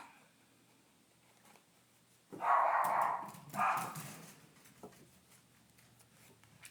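Dogs bark in a pair of loud, close bursts midway through, surrounded by quiet room ambience with faint scattered small noises and no talking.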